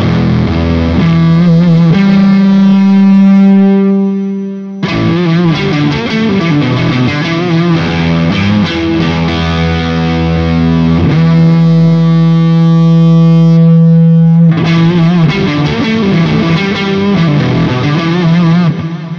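Electric guitar through a germanium fuzz pedal with the guitar volume rolled back, sustained chords and held notes with a rich, gritty distorted tone, loud and continuous with brief changes between chords and no talk.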